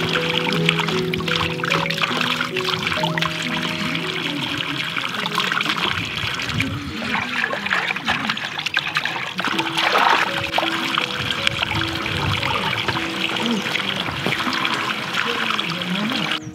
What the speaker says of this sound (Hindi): जो पहाड़ी पानी होता है, जो ग्लेशियर वाला पानी होता है, वो लोग कहीं ना कहीं से तो पाइपलाइन करके, साइफोन सिस्टम करके, ऐसा करके रखते कि दिन भर बहते रहते।